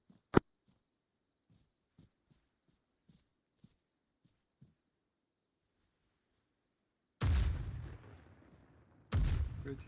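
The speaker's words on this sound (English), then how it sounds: "Shells are landing northwest of our Contacts position." Mortar shells land in a military video game as two loud, broadband blasts near the end, each with a rumbling decay, after a scatter of faint ticks and a sharp early pop.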